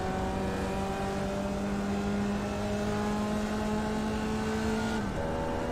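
Race car engine in iRacing held at high RPM, a steady loud drone with clear tonal whine that dips slightly near the end as the pitch shifts, alone without talk.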